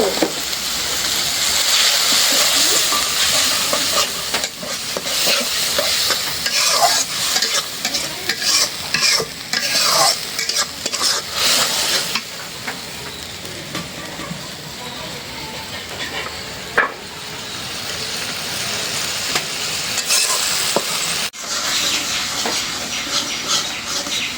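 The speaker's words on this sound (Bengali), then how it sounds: "মশলাটা ভালো করে কষাই নিলাম" Turmeric, chili, coriander and cumin powders fry in oil for a katla fish curry with jackfruit seeds and eggplant, stirred constantly. A loud, continuous sizzle runs throughout, broken by repeated scraping strokes of the spoon.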